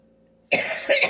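A single short, harsh cough after a moment of near silence, loud and close.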